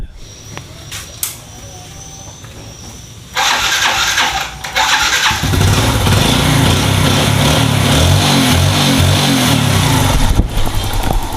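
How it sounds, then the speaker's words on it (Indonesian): A Yamaha Jupiter Z1 fuel-injected motorcycle, running on a swapped-in battery, is cranked by its electric starter and catches, settling into a loud, steady close idle with a few brief clicks beforehand. "Coba saya akan starter."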